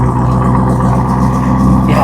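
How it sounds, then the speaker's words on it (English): Steady, loud low rumble of a Lamborghini Urus SUV's engine and exhaust, idling close by with an even, continuous drone and no voices. "yeah, those are the engine noises"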